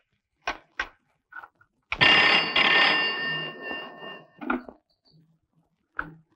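An old landline telephone rings in a scene from a classic Tamil comedy film. One sustained, loud bell ring sits between short bursts of voices and noises.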